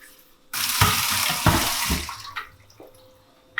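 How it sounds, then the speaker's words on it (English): Tap water runs into a sink as a coffee grinder is rinsed, a bright rushing stream that starts abruptly, splashes and changes as the grinder is moved, then stops, leaving faint drips. "I'm going to give it a good rinse."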